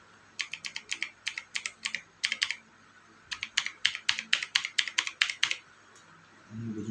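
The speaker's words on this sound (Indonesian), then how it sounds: "Ini bunyi mechanical keyboard ini." Typing on a ZK-3 mechanical keyboard gives crisp, close clicky keystrokes in two quick rhythmic runs separated by a short pause, with a low thump at the end.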